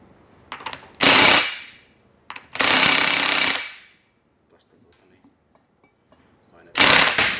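Pneumatic impact wrench tightening the differential bolts on a BMW Type 210 axle: loud close rattling bursts of about half a second, one second, then another half second, separated by quiet gaps.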